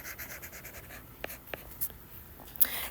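Pen scratching across paper in quick, faint, close strokes, with a few short sharper scrapes in a quiet room.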